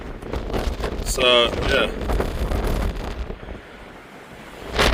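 Strong wind buffets a microphone at Cape Point, Cape Town, with roaring gusts and surf noise, a brief tonal squeal and a person speaking briefly.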